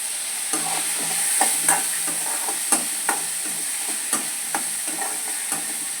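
Onion, tomato, garlic and curry leaves sautéing for vatha kuzhambu, a steady sizzle in the pan with a dozen or so sharp spoon scrapes and taps stirring through it at an uneven rhythm, close and clear with no talk.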